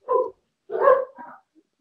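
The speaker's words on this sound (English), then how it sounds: "I apologise for the sound of my dog barking" A dog barks three times, close and fairly loud, with two sharp barks and a softer, shorter yelp after a pause, set against an otherwise quiet indoor background.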